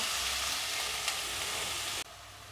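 Chopped onion sizzles in hot oil for Indian-style red sauce pasta, a dense, bright frying hiss with light stirring, steady and close, dropping off sharply near the end.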